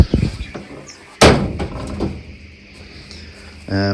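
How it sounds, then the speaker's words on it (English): A door in a fishroom is pushed shut with one sharp thud and a rattle of the latch, followed by quieter mechanical knocks and a final clunk. "I need to shut this door"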